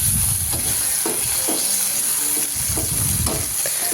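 Sliced tomatoes go into ginger frying in oil in a pan for a Bengali fish curry, giving a steady sizzle with repeated stirring scrapes through the four seconds, fairly close and loud, with no voices.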